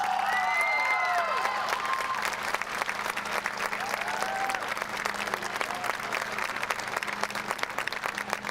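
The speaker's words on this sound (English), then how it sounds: "Let's give him a round of applause." Crowd applause at a school pep fest, sustained clapping and scattered cheers filling a large room, with a steady hum underneath and a few high whoops early on.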